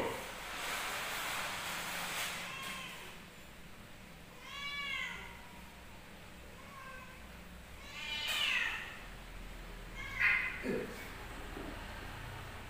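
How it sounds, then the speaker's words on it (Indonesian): A cat gives a few drawn-out, wavering meows, then a sharp hiss and a couple of short yowls, close by in a quiet room. "baru nemuin satu ekor ini kucing yang benar-benar super galak."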